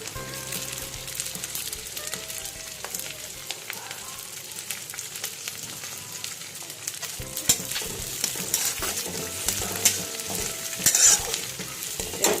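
Ginger, garlic and onions frying in a pan, a steady sizzle with repeated scraping and stirring strokes, heard close up and moderately loud with no talk.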